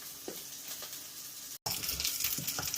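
Kagoshima wagyu beef searing in a pan: a continuous close sizzle and crackle, briefly cut off, then returning a little louder, with no speech.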